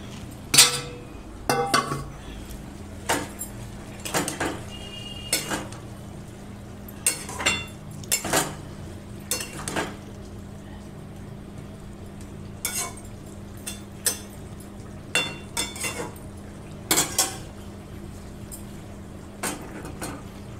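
Spoon clinks and scrapes against a metal cooking pot as prawns go into a banana-stem ghonto and get stirred, coming in irregular bursts over a quiet low hum, with no talking.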